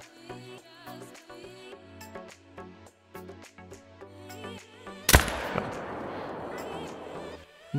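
A single loud hunting-rifle shot cracks out in theHunter: Call of the Wild, a sharp broadband blast followed by a rolling echo that fades across the landscape, after a stretch of quiet game music and ambience.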